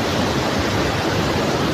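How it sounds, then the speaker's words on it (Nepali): The Rangit river rushes past in a dense, steady roar of flowing water, loud and close, with no other sounds over it. "यो चाहिँ हाम्रो रङ्गित खोला ल।"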